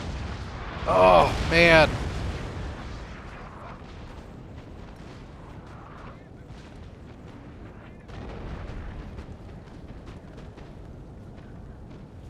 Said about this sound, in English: my artillery is just going to keep shelling these units.